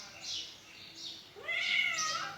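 Sweety the cat meows loudly up close, with a couple of soft calls and then a longer, rising, drawn-out meow; a person's voice is faintly present.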